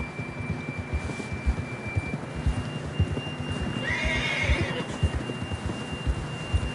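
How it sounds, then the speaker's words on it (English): A horse whinnies loudly about midway in a video game, over steady hoofbeats clip-clopping throughout, with a low ambient hum underneath. "John was riding that horse when we left Blackwater."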